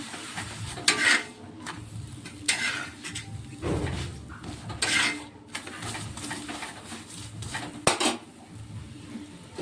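Oil being brushed over a paratha in a hot pan, with soft scraping strokes, clinks of metal utensils on cookware and a light sizzle underneath, close and fairly busy with no voices.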